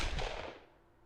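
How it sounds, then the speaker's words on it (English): A single distant pistol shot rings out in the Hakuoki video game: one sharp report with a quickly fading tail, heard alone. "A pistol rattled off somewhere in the distance."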